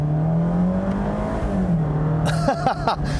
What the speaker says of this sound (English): The engine makes pretty uninspiring noises.